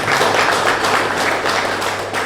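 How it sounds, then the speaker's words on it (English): A crowd at a cricket tournament launch and draw event applauds in a steady, dense round of clapping that stays loud and even throughout, with no voices standing out. "Let's give you a round of applause"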